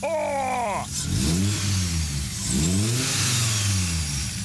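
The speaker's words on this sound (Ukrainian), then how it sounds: "Треба йти завести, я думаю. По-любому. Заводим двигунця!" A small coupe's engine cranks with a rising whine, catches, then revs hard twice in strong surges, loud and close throughout with no talking.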